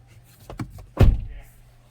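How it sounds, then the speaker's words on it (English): A Hyundai car door swings open with a soft click, then shuts with a solid, close thunk; the closing thud is the loudest part and fades quickly. "open and close the door again so you can hear how it sounds."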